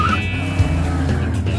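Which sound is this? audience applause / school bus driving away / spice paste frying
school bus driving away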